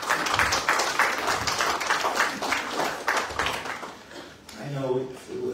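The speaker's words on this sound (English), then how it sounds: "Give them a huge round of applause." Audience at the launch of Fiji Pride 2024 applauds panelists and speakers, a scattered round of clapping that rises and fades over several seconds before a voice starts speaking near the end.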